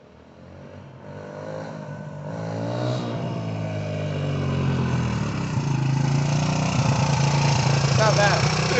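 Suzuki DR-Z125 motorcycle engine running steadily, rising in level over the stretch as it revs, with a continuous buzzing drone throughout and voices talking over it.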